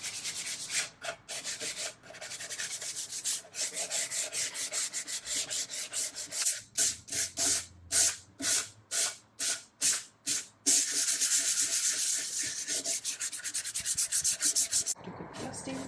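Dried plaster being sanded smooth by hand on IKEA Hemnes furniture, with steady rubbing strokes that turn into quick rhythmic back-and-forth passes in the middle, then continuous scraping toward the end, close and alone.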